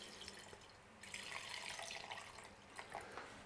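Fertilizer solution being poured into a plant container, a steady liquid splash that starts softly and swells after a second, continuing with gurgling variations.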